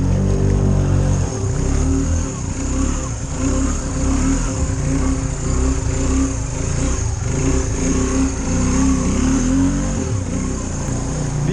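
A Honda 300 ATV on 35-inch BKT tires churns through deep water, its engine droning loud and steady with constant splashing and sloshing, no talk.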